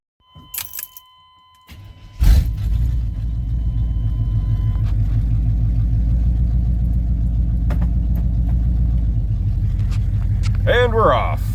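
A car pulls off and drives slowly just after a tire plug repair on a flat tire, its engine a steady low rumble throughout following a few brief handling clatters and a door thump, with a faint creak near the end.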